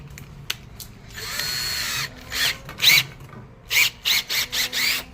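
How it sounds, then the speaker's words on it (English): A cordless drill driving a honing tool whirs in a steady two-second run, then fires in a series of short bursts, close and fairly loud. "cordless drill, honing tool."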